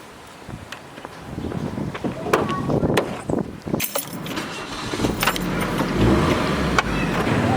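A car ride through traffic toward old Phuket Town, with steady engine and road noise building, cabin rattles and jingling keys, and a few sharp clicks.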